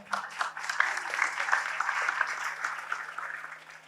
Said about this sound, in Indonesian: Saya tepuk tangan dulu untuk Padang Bulan